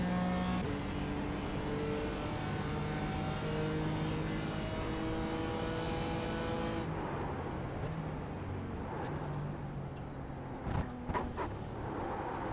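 A race car engine in the iRacing sim racing game, a continuous loud engine drone with shifting pitch that changes character partway through, plus a few sharp knocks near the end, with no talk.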